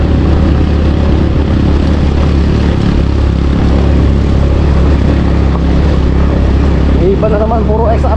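Honda XRM motorcycle engine climbing a hilly rural road in Zamboanga del Norte, a steady loud drone close to the microphone with wind rumble and a short rising rev near the end.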